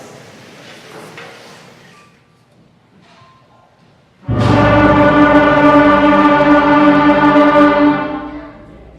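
A beginner school band's wind instruments start abruptly and hold a loud, sustained chord together, a slightly rough ensemble tone, after a quiet stretch of faint murmuring.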